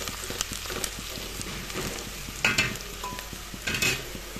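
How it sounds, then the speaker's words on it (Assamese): Chili, cumin and coriander powders are stirred in a hot pan for an egg and dal curry, a steady close sizzle with scraping spoon strokes and a few louder bursts of frying. "এইখিনি অলপ এনেদৰে লৰাই ল'ম।"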